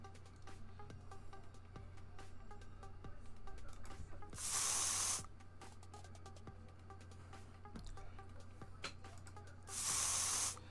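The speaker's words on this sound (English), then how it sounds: "Does this sound like a spray bottle to you guys?" Two short bursts of a spray bottle misting, each about a second long and spaced several seconds apart, standing out over a low steady hum and soft background music.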